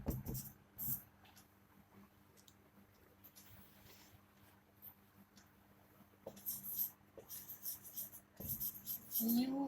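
Pens scratching on paper as students in a lecture room write, a faint steady scritching with sporadic louder taps and rustles, quiet overall with a few distant voices.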